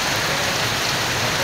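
Heavy downpour in Senbag, Noakhali, Bangladesh, beside a large field: a dense, steady roar of rain hitting surfaces, loud and unbroken, with no voices.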